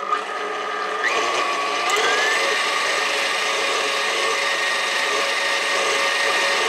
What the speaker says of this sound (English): We have it in the bowl with the whisk attachment attached, and we're just going to beat this on high speed